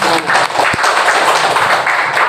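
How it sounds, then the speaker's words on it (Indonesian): Applause in a classroom lesson, a dense steady patter of many hands clapping throughout, close and fairly loud, with a single low thump near the start. "Tepuk tangan untuk"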